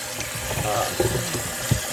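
Cold water runs from a tap in a steady, close splashing stream, with a few brief knocks and bumps on top.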